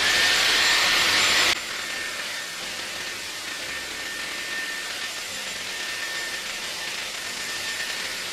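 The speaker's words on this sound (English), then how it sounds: "I'm gonna just blow dry my hair" A Dyson Airwrap hair styler blows air while drying hair, opening with a loud bright hiss that drops after a second and a half to a softer steady airflow for the rest, with no talking.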